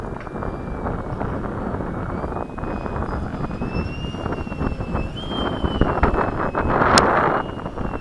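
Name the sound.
Skysword RC airplane flying and landing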